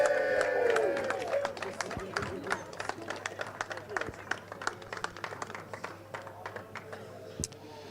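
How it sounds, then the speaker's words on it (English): A crowd applauds the marshals and medics after a Fun Cup endurance race at Anglesey. Many distinct claps rattle steadily for several seconds and then thin out, and a voice speaks over a PA at the start. "we're going to be giving all of our marshals and medics a huge round of applause"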